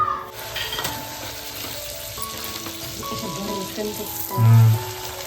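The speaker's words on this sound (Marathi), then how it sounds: "तेल पण चांगला तापलेला आहे त्याच्यामुळे चांगल्या फुगतात" Puris fry in well-heated hot oil, a loud, close, continuous sizzle and crackle with some stirring and a brief louder bump near the end.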